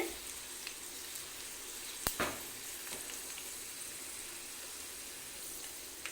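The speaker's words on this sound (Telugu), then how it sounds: "ఒక రెండు కరివేపాకు రెమ్మలు పోపుని బాగా వేగనివ్వాలి" Tempering of spices and curry leaves sizzles softly in hot oil for a pickle, a faint, steady crackle broken by a couple of sharp stirring clicks near the start.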